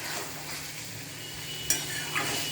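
Paneer curry is stirred in a pan just after water is added, a soft, steady simmering sizzle under scraping spoon strokes, with two sharp metal clinks against the pan near the end.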